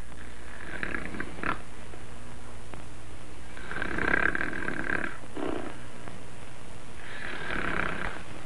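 A man snores in long, rough, rasping breaths, repeating slowly about three times, close and fairly loud, with no talk over it.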